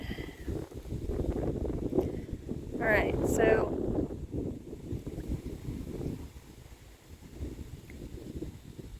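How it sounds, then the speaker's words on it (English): Wind buffets the microphone outdoors at night in heavy low rumbling gusts while a person speaks briefly over it. "It was not supposed to be this windy tonight."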